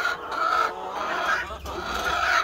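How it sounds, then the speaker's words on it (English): A Leghorn hen among a backyard flock of Brahmas and Speckled Sussex clucks and chatters in short repeated bursts close by, with steady background noise and no speech. "there's always a leghorn up here that likes to come up here and talk to me"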